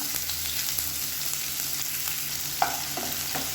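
Onions sautéing in oil in a pan for sambar, a steady broadband sizzle with a few soft scraping stirs near the end; close, moderately loud, with no talking.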